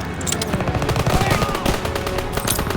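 Rapid bursts of automatic gunfire from a World War II first-person shooter, Call of Duty WWII, fire continuously and loud, with dense overlapping shots and a faint voice mixed underneath.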